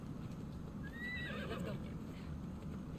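A horse whinnies in Assassin's Creed Odyssey, a single rising-and-falling neigh standing out over steady, loud game ambience and hoof clatter, with no talking.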